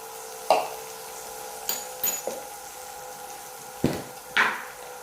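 Chicken sausage seasoned with salt and pepper powder fries in a pan for chilli chicken sausage, a low sizzle running beneath several distinct clanks and scrapes of a utensil against the pan.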